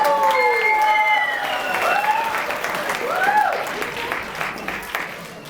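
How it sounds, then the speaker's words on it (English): An audience at a fashion show claps for a participant, a full, sustained wash of applause with cheering and whistle-like voices rising over it, tapering slightly toward the end. "Give him a round of applause."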